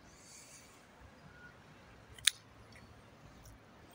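Pruning shears snip through a plum tree branch with one sharp, crisp cut midway. Faint outdoor quiet surrounds it.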